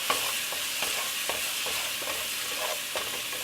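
Garlic cooks in a pot over medium heat, a steady close sizzle with occasional soft stirring scrapes and no voices.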